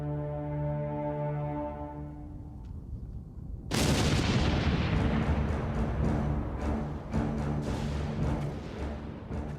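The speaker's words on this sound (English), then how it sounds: "brought out a secret weapon. Big Bertha, the world's largest cannon" A deep, heavy blast erupts after a droning tone, followed by a long rumbling roar that lingers and slowly fades: the Big Bertha siege cannon firing in World War I.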